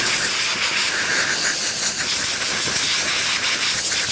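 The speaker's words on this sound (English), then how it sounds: "That's why I keep using the compressor. Blow the air over it, and you'll see it'll clean it off." Compressed air blasts steadily from a compressor nozzle over sandpaper while sanding primer on a 1957 VW Beetle, a loud continuous hiss held for the whole stretch with slight surges and no voices.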